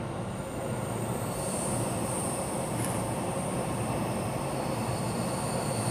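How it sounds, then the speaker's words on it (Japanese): A train rolls past on the tracks beneath a rail overpass, a continuous broadband rumble with a thin high wheel squeal running steadily throughout, no voices. "電車は今来ますけど、"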